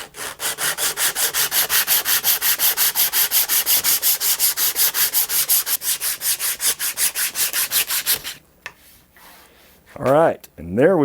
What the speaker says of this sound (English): So now at this point is when I start to move to sandpaper and a sanding block.